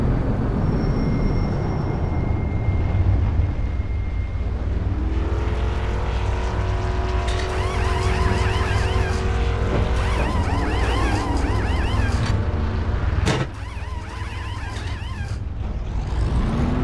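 Race cars roar around the track at Talladega, a loud continuous engine drone with rising and falling whines as cars pass close by, briefly dipping before building again.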